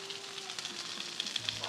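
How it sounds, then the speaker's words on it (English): Diced onion sizzles on a hot Blackstone flat-top griddle, a soft, even crackle with a few brighter pops, close and alone. "And we're gonna put the onion on here, all right?"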